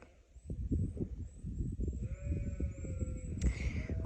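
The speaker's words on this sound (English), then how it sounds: "That was the sheep going, for God's sake, John." A sheep bleats loudly nearby outdoors in a long wavering call, over a rough, busy background of rustling and other farmyard noise.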